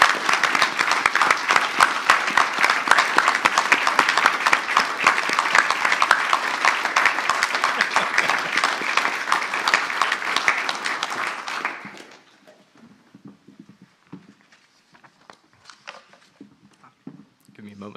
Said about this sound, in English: I'd like to ask you guys to stand up and get a round of applause as well.